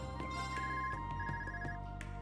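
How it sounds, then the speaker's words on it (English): A phone rings in the video game Trails of Cold Steel III with a repeated electronic ringtone. Bright tonal chirps pulse in a regular pattern over background game music, loud and close. "Another phone call. There's a lot of phone calls."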